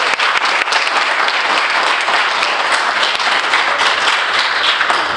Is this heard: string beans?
no